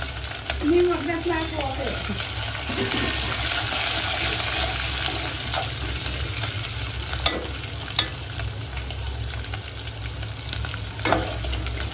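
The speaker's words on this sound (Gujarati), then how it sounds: "હવે લીમડો મૂકવાનો, પછી એમાં મરચાં મૂકવાના." Curry leaves and green chillies hit hot oil for a tempering while farali dhokla is made in a home kitchen in India, giving a loud, continuous sizzle with stirring scrapes and faint voices in the background.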